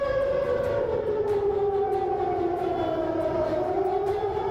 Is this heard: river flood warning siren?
yes